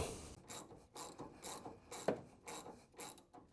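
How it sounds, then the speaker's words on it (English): A ratchet tightening a nut on the suspension of a 1966 Corvette, quiet repeated clicking strokes in a steady back-and-forth rhythm, close by and with no talk. "we start the nut. And again, we are going to tighten that down and get that done."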